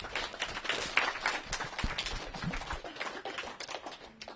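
An audience at a Lycée Val d'Argens school presentation event claps in sustained, dense applause with scattered sharper individual claps, filling the room at a fairly steady level throughout.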